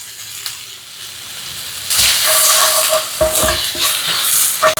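Tomato and green chilli sauté with salt in a hot pan, starting as a quiet sizzle and then swelling into loud frying hiss broken by bursts of stirring and scraping.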